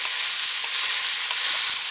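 A spoon stirs canned beans into a pot of Hungarian bean soup with sausages, producing a steady hissing, sloshing sizzle that stays close and even with no talk.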